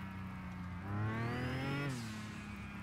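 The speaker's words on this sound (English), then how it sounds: "You hear the engine rev every time I tap on the gas." In the video game Mon Bazou, a car engine revs up as the gas is tapped, the pitch climbing smoothly and then dropping back to idle, one clear rev over a steady engine hum with no talking.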